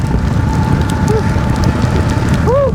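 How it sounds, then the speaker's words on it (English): Rain pours down steadily and loudly during a ride on an Ecells Five Star eBike, a dense close hiss of drops with faint whining tones running underneath. "I haven't got stuck in the rain like this for a while."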